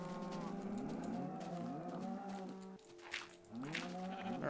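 Cattle in the video game Minecraft with the Thaumcraft mod low repeatedly, a series of long, drawn-out moos that overlap and follow one another close up, with no talking.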